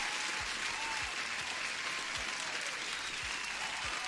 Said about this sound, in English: Huge applause to Justin Wright.